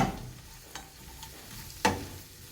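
Fennel seeds, chili powder and other spices fry quietly in oil for a mushroom curry. A soft, steady sizzle is broken by a couple of sharp clicks from a spoon against the pan.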